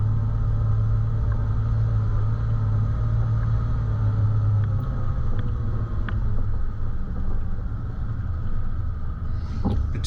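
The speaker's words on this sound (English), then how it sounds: "you can hear the engine braking sort of doing its thing" A 4WD descending a steep high-country track in low range, second gear, with engine braking: a steady, loud low engine drone and rumble throughout, with faint rattles and a brief clunk near the end.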